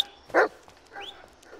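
A dog gives a single sharp bark, close and clear, followed by a faint whimpering yip against a quiet background.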